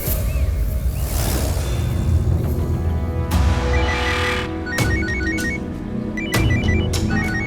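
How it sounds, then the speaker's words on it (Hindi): A mobile phone rings loudly with a repeating electronic ringtone pattern, several bursts in a row, close by and without speech, after a brief whooshing sound. "मेरा फोन बज रहा है।"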